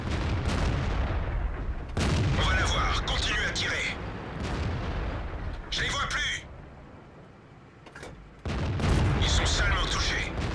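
Tank cannon shots in World of Tanks, a heavy gun firing at a T29 with armor hits on its upper plate, several loud broadband blasts with metallic ringing spread over the stretch alongside continuous low engine rumble.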